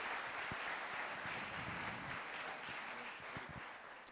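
Audience applause at an entrepreneur pitch event, moderately distant and steady, a mass of clapping with a few sharper individual claps standing out, gradually tapering toward the end.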